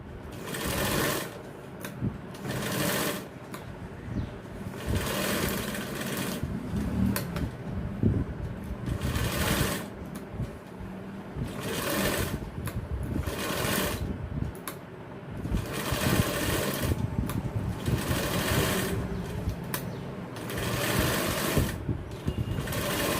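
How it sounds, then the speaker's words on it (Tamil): A sewing machine stitches the lining of a 34-inch jacket in a tailoring shop, its rapid needle clatter running in close, steady bursts with brief pauses between seams. "இப்போ லைனிங் ஜாக்கெட் தைக்கிறாங்க."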